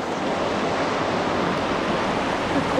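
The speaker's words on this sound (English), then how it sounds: "We're going through some more rapids." River rapids rushing around an inner tube while tubing in Townsend, Tennessee: a steady, loud roar of churning water with wind buffeting the microphone and no pauses.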